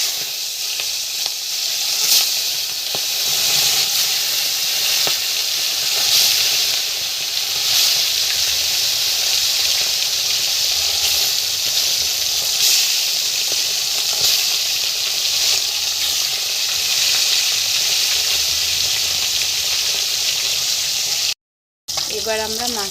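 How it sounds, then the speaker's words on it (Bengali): Rui fish pieces fry in hot oil in a wok, producing a loud, steady hiss and sizzle with occasional spits and pops that runs unbroken for a long stretch before a brief silent gap, no talking heard. "এবার মাছগুলো দিয়ে দেবো।"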